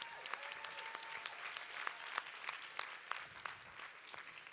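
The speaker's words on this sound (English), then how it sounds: "So could we give a big round of applause to Amber and Milo?" A meeting audience breaks into a warm round of applause for two people, dense clapping continuing steadily throughout at moderate distance without any talk.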